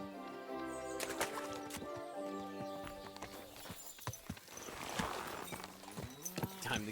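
Horse hooves clip-clop in Kingdom Come: Deliverance 2 as a rider moves along, steady and fairly close, mixed with game music and other background sound.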